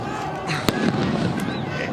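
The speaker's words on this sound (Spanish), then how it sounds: "estamos escuchando en este momento las explosiones de las bombas aturdidoras" A sharp, loud stun grenade bang cuts through a noisy outdoor crowd, followed by rumbling and scattered shouting at a distance.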